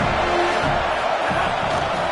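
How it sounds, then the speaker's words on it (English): A steady, dense roar from a packed stadium crowd at a Miami vs USC college football game, loud and continuous throughout with no single voice standing out. "This crowd ready to make its presence known."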